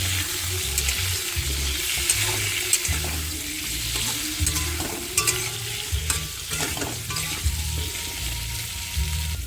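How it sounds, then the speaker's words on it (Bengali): Potato pieces fry in hot oil with turmeric, stirred repeatedly with a spatula that scrapes and clinks against the pan, over a continuous close sizzle, while cooking a catla fish and cauliflower curry. "আলুগুলো একটু ভালো করে ভেজে নেব"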